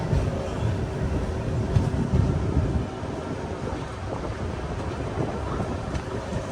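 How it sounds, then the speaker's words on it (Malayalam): A passenger train pulling out of Kollam Junction station, heard from inside as a steady low rumble and rolling clatter with wind noise, constant and fairly loud throughout. "കൊല്ലം ജംഗ്ഷൻ റെയിൽവേ സ്റ്റേഷനിൽ നിന്ന് നമ്മുടെ ട്രെയിൻ എടുത്തിരിക്കുകയാണ്"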